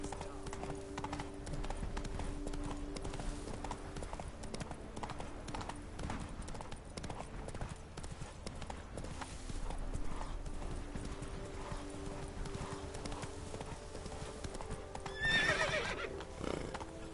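Roach, Geralt's horse in The Witcher 3 video game, trotting with continuous close hoof clip-clop, a whinny rising near the end, over a low steady game ambience.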